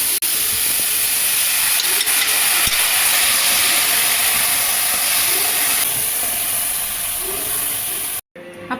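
Cooked chana dal (split chickpeas) being added and stirred into a cabbage and coconut curry in a pan, with a steady loud sizzle and hiss throughout, scattered scraping stirs, ending abruptly.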